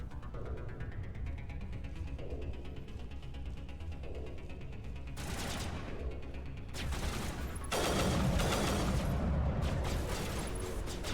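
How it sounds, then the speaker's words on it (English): Burst-fire gun shooting in the video game Mass Effect Legendary Edition, quiet background hum at first, then loud rapid bursts of gunfire in clusters toward the end, no talking. "This didn't used to be burst fire."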